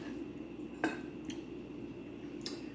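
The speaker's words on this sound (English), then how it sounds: "Let me cut y'all the piece that I didn't eat on yet." A knife and fork cut through a pink-centred steak on a plate, giving a few faint, sparse clinks and scrapes against a quiet background with no talking.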